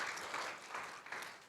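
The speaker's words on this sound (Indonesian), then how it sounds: "Boleh tepuk tangan." Clapping from a congregation during a Sunday afternoon church service, a short, moderately distant burst of many hands with a soft, steady wash and no talk over it.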